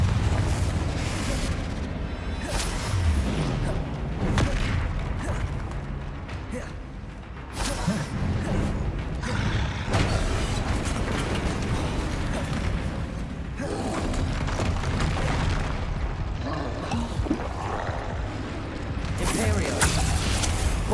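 Spell blasts and explosions from Hogwarts Legacy combat roar as a dense, continuous wall of booms, whooshes and crackling impacts, loud and unbroken throughout.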